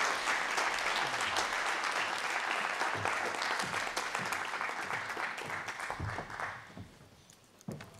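Sustained applause from a lecture audience after a philology talk, a dense patter of many hands that holds steady for several seconds before thinning out and fading at the end.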